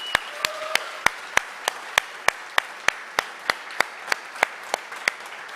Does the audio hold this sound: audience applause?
yes